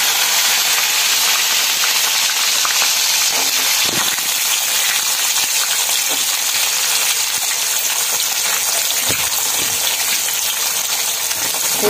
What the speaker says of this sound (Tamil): வெங்காயம் பூண்டு போட்டு வதக்கிடலாம்.